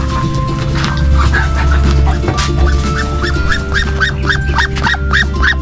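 Ducks and turkeys call in a loud series of repeated honking cries over a steady low hum.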